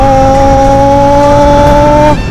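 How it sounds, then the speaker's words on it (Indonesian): Big motorcycle engine revving hard from close range, a loud sustained high-pitched tonal roar with steady harmonics that holds for about two seconds, then cuts off abruptly. "suara moge ya keluar"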